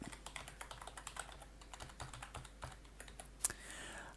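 Username being typed on a computer keyboard: a steady run of light, close key clicks at an even pace, ending with a slightly sharper tap.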